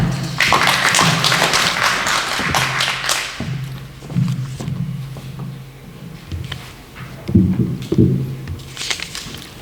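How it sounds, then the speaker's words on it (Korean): Audience at a Korean community political briefing in Atlanta claps to welcome a speaker, a dense burst of applause that fades after a few seconds into scattered taps and thumps, with faint murmuring. "여러분 박수로 맞아주십시오."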